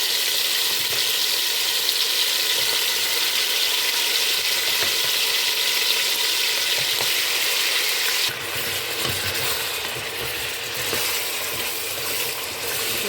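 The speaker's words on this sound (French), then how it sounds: "Je vais laisser mes morceaux de viande griller." Beef pieces sizzle in hot oil for a traditional Ivorian-Senegalese thieboudienne, a steady dense crackling hiss that runs throughout and thins slightly partway, with no talking.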